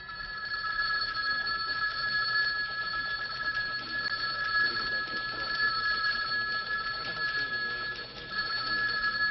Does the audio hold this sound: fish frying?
no